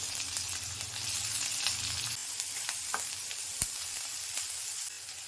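Steady sizzling of onions and chillies sautéing in a pan, with occasional stirring scrapes and a sharp clink partway through; no voices.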